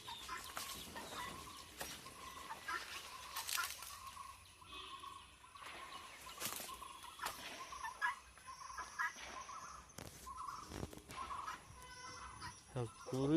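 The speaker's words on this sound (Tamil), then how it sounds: "குருவி தான் கத்துதா எடுத்தது." A sparrow chirps in short repeated calls near a backyard spot where chicks are kept, the sharp little cries spread across the clip at moderate distance over faint background noise.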